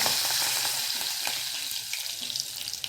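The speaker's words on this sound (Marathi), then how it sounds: "तर तेल व्यवस्थित गरम झालेलं आहे आता आपण राई टाकूया थोडंसं हिंग कढीपत्ता" Mustard seeds, asafoetida and curry leaves sizzle and crackle in hot oil for a lentil dish, a steady close hiss with scattered pops and no voices.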